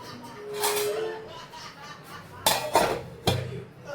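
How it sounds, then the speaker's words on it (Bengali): A lid set down onto a cooking pot in a home kitchen while making a vegetarian dish, with a couple of sharp metallic clanks near the end after softer handling noise and faint background activity. "এবার একটা ঢাকা দিয়ে দেব।"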